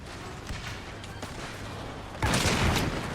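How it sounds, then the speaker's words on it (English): Artillery pieces fire in concentrated volleys during a Napoleonic-era battle at the Pyramids in the Empire strategy game, a rumbling fusillade of distant booms that swells into a louder, denser burst near the end. "concentrated fire from all pieces of artillery"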